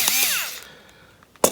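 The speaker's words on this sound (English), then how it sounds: "Electric screwdriver I should say." An electric screwdriver spins down with a falling whine while removing the neck from a Stratocaster guitar, followed by a sharp burst as the motor starts again.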